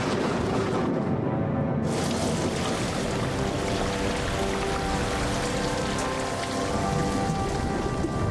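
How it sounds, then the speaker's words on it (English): Steady, heavy rain pours down continuously, a dense hiss of drops hitting surfaces with a faint low rumble beneath. "the rain began"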